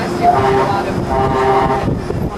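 The Disneyland monorail runs near Tomorrowland station, giving a loud steady hum with tonal whine lines and a rolling rumble beneath.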